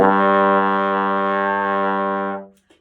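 A single sustained low G on a trombone or baritone, rich in overtones, held steady and loud for over two seconds before cutting off.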